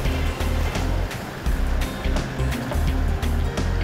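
A Toyota Troopy four-wheel drive crawling up a rocky ledge, its engine revving in repeated surges and easing off between them, close by and steady, with rough outdoor noise throughout.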